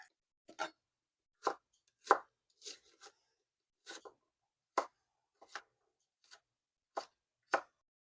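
A knife chops onion on a board: about a dozen crisp, close strikes in an uneven rhythm with short pauses between, no voices.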